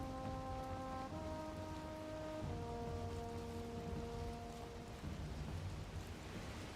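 Steady rain falling over the open ocean in the video game Valheim, a dense even hiss with a low drone of sustained tones underneath, with no speech.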